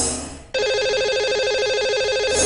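A telephone rings out loud and steady on a radio show's line to a lucky caller, a warbling electronic tone that begins abruptly after a brief muffled moment and holds alone to the end.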